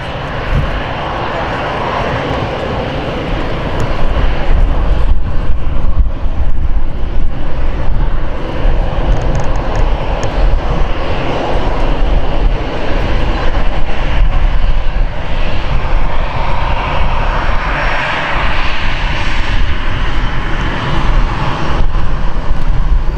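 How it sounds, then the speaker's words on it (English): Austrian Airbus A319 jet airliner on the runway at Manchester Airport, a loud, sustained engine roar that swells and holds steady, with someone talking over it throughout. "this particular Austrian is a Airbus A319"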